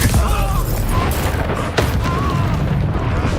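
A Confringo blasting spell explodes in Hogwarts Legacy, landing as a loud, thumping blast. Dense combat noise and brief cries from a voice surround the explosion.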